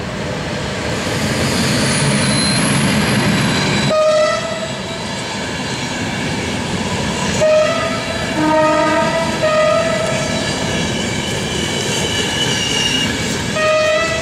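The Interregio 1651 passenger train from București Nord to Suceava Nord passes behind an electric locomotive, its steady loud rumble joined by repeated horn blasts and squealing wheels, with no talk.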